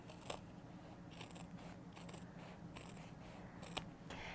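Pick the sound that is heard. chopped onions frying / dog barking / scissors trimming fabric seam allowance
scissors trimming fabric seam allowance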